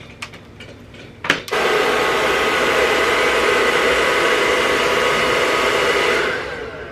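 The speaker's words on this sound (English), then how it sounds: "to make this dry faster, you can actually just use a hair dryer" A hair dryer switches on after a couple of clicks and blows steadily at close range, a loud, even whoosh that eases off near the end.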